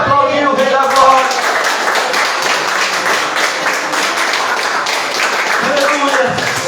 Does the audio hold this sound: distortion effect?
no